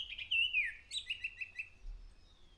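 A bird calls in front of a village house in rural Konkan at evening after the first monsoon rain, giving a bright whistled note followed by a quick run of chirps, fairly close and clear over a quiet outdoor background.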